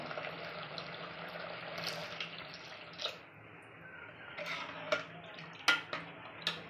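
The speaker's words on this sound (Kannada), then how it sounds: "ಇವಾಗ ನೀರು ಎಷ್ಟು ಬೇಕು ಅಷ್ಟು ಹಾಕ್ತೀನಿ ಸಾಂಬಾರಿಗೆ" Water pours into a pot of okra sambar with a soft gurgling stream, followed by a few light clinks of utensils against metal, quiet and close.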